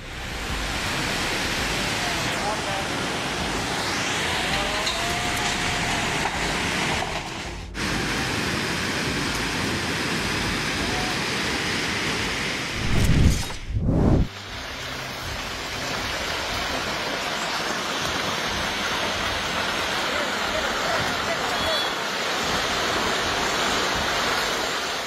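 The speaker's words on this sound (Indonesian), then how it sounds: "hujan lebat di India menyebabkan sungai meluap" A flooded river in India swollen by heavy rain, a dense, continuous roar of rushing water that holds steady throughout, with a couple of brief loud buffeting bursts midway and no voices.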